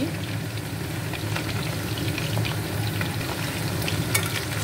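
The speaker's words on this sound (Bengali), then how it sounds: "এখন আলু ভাজছি" Potatoes fry in a pan of oil with a loud, continuous crackling sizzle, broken by occasional spatula scrapes and a sharp clink near the end.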